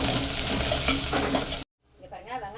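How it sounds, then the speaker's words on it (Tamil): Onion and garlic sautéing in a pan for a home-style pathiya kulambu, a loud dense sizzle with stirring scrapes that cuts off abruptly, followed by quieter faint sounds. "இங்க பாருங்க, வெங்காயமும் பூண்டும் வதங்கிருக்கு"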